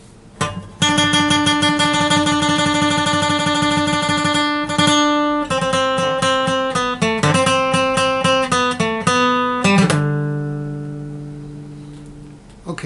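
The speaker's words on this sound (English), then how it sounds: "Okay, the next Spanish lick should sound like this." Spanish-style guitar lick, played solo on acoustic guitar: a rapid run of plucked notes with strummed accents, ending on a ringing chord that fades out.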